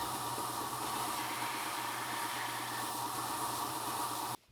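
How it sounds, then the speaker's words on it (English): A belt sander runs steadily, smoothing and blending the cork edges into a wooden board, a continuous close whirring hiss that holds nearly the whole time and then cuts off abruptly at the end. "I will use the belt sander to fine-tune the edges of the cork and blend it into the board"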